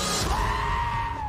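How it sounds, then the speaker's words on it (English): A giant goat from Thor: Love and Thunder lets out one loud, sustained, human-like scream that fills the whole moment over a rumbling cinematic backdrop. "And giant goats. Oh, look at those. They are wonderful. Yes, they are. They also scream quite a lot."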